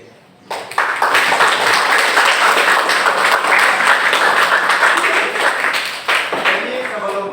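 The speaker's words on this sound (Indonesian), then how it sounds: "kita tepuk tangan untuk diri kita sendiri" Loud applause from a classroom group, dense clapping starting abruptly and continuing throughout, briefly dipping near the end.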